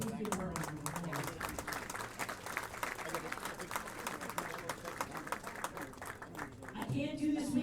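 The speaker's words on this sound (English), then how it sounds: "So please give her a round of applause." At a bowling awards ceremony at Limerick Bowl, an audience gives a round of applause, a faint, steady patter of many hands from a distance, with a voice rising near the end.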